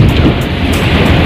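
Floodwater rushing over a road in front of a temple, a loud, steady broadband roar of churning water that fills the whole clip with no break.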